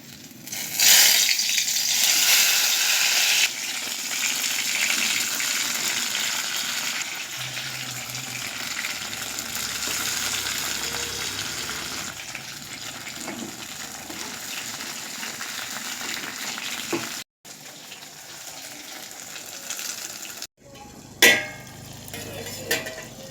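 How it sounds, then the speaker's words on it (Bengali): Salted hilsa fritters with onion, wrapped in ash gourd leaves, fry in hot oil in a wok. A loud, steady hissing sizzle runs throughout with a few brief breaks and no talking. "এখানে কড়াইতে তেল দিয়ে দিয়েছি"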